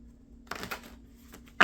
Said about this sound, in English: as I'm shuffling your cards today